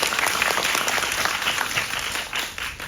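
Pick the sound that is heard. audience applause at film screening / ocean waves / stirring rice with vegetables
audience applause at film screening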